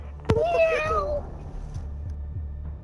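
A cat in a video game gives a single clear, drawn-out meow lasting under a second, followed by faint background game sound.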